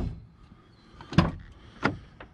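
A compartment door on a tow truck being unlatched and swung open: a few close metallic clicks and clunks, two sharper knocks spaced about half a second apart, in a quiet setting.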